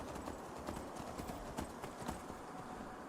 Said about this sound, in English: This horse looks cute. Well, it's a donkey.